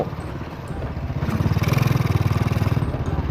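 A worn Honda Wave 125S motorcycle is ridden, its engine chugging in a steady rhythmic pulse that builds as it revs, loud and close with faint talk at the start.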